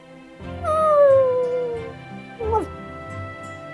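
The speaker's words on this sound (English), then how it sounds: "A lone white dog runs through a Shinjuku in chaos." A lone white dog in the video game Fate/Grand Order lets out a falling, drawn-out howl, then a shorter whimpering cry, loud and close over background game music.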